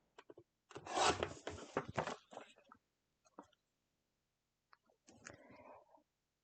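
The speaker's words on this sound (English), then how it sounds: "I just need to trim a little bit off of each one of these so that they will fit with that bar in place" Quiet rasping of a paper trimmer slicing photos for a scrapbook layout, a couple of close short strokes followed by a pause and another brief cut.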